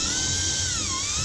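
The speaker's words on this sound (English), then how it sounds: "In this case, I'm using my drill with an angle drill bit" A power drill with an angle drill bit whirring loudly and continuously up close during an LG front load washer repair, its high motor whine dipping briefly in pitch under load before recovering.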